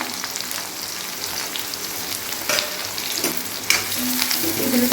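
Two finely chopped large onions sizzle and fry in a pan while being stirred for a coconut, raw mango and pea sundal, a steady close crackle with occasional scraping clinks.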